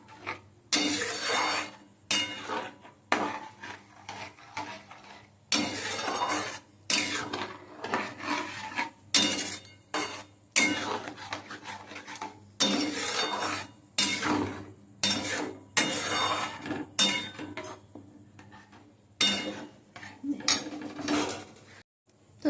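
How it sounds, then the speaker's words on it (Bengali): Spoon or ladle scraping and rubbing the bottom of a pot of thick tal kheer with cardamom, in repeated rasping strokes with short pauses between them, close up, with no voices. "আর অনবরত এরকম ভাবে নাড়াচাড়া করতে হবে, না হলে নিচের থেকে লেগে যাবে।"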